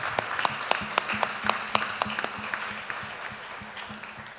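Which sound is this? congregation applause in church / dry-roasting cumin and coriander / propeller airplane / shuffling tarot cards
congregation applause in church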